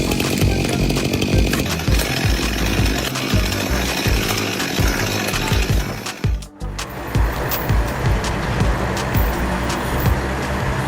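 Chainsaw cutting into trees, a loud continuous engine drone with repeated revving bursts, briefly cutting out near the middle before resuming steadily.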